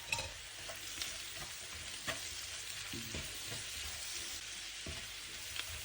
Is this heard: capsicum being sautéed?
yes